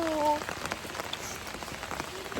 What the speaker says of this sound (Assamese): এক্সাম দিব গৈ আছোঁ বৰষুণত ভিজি ভিজি।